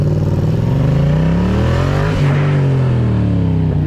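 A Yamaha MT-07 motorcycle accelerating, loud and close, its engine note rising steadily through the revs, dipping briefly at a gear change, then climbing again.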